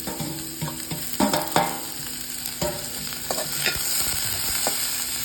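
Sliced onion and chili sauté in a pan for a cauliflower dish, a close sizzle punctuated by sharp spatula scrapes and stirring knocks, irregular at first and settling into a steady fry.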